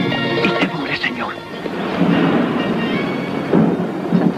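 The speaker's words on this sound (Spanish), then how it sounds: "Deja que se descargue la tormenta." Thunder rolls through a June rainstorm, loud and continuous, with heavy rain and deep crashing swells, while muffled voices sound beneath the storm.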